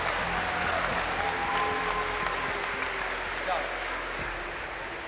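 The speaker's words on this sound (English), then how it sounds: "Round of applause, please." An audience claps at a Shia Voice singing competition finale in London, a soft, even wash of applause heard from some distance, continuing throughout at low volume.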